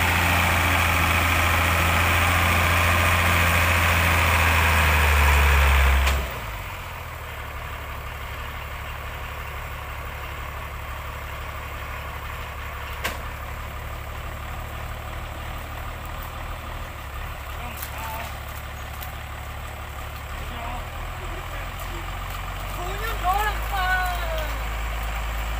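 A Hyundai vehicle's engine runs on a muddy, boggy road while pulling a cable, a loud steady rumble for the first few seconds, then a lower, quieter idle hum with faint talk under it.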